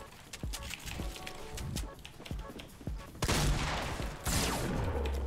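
Gunfire in the battle royale game Fortnite, a series of sharp shots spaced irregularly, followed by louder, denser bursts near the end over game ambience.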